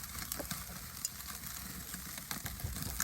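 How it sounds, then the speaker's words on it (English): Fat searing in open grill flames during slow barbecue roasting, a faint steady sizzle with scattered small pops and crackles. "I'm just gonna sear the fat for a while"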